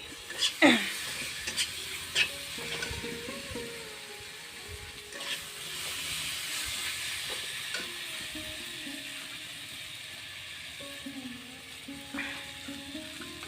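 Tomatoes go into a bitter gourd curry in a hot pan, and a steady sizzle follows. A few clattering stirs and scrapes come near the start, then the frying settles into a continuous moderate hiss.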